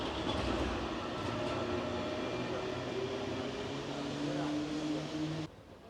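A tram rumbles past close by in the Netherlands, a loud continuous roar of wheels on rails with faint squeals, cutting off abruptly near the end.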